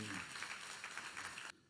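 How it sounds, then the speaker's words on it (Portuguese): Church congregation applauding during a Portuguese sermon, a steady wash of many hands clapping at moderate distance, cutting off abruptly near the end. "Aplauda ao Senhor com alegria"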